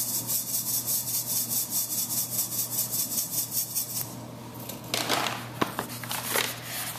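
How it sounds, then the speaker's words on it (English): Dry earth sample shaken through a fine sieve, a steady rhythmic gritty rasp repeating several times a second for about four seconds, then giving way to scattered rustles, clicks and a few sharper knocks close by, with no talking. "So let me do one last sieve."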